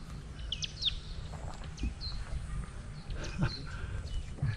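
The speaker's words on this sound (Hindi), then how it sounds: "चिड़ियों की आवाज़।" Birds chirping outdoors in Kenya, scattered short tweets and calls sounding fairly faint over a low background hum.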